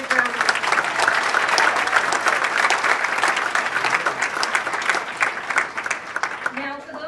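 A large audience at an evening community celebration claps for the event's organizer, dense sustained applause filling the room, with a voice speaking briefly near the end.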